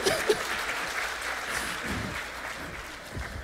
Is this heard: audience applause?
yes